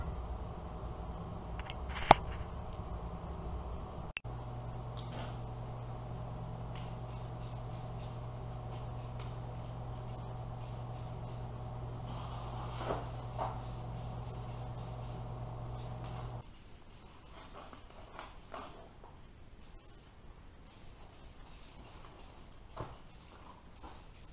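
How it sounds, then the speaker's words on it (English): A can of Rust-Oleum gloss black spray paint rattles briefly, then hisses in one long, steady burst while coating a three-point hitch snow plow. A few faint knocks follow in a quiet workshop. "So now we're just going to use the Rust-Oleum Gloss Black to kind of match the rest of the plow there."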